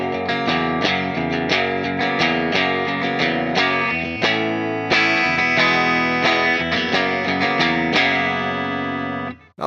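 A clean, dry electric guitar plays a riff from a 1980s song with no tremolo effect, picked as bright, sustained arpeggiated notes in a steady pattern that continue unbroken until a sudden cutoff.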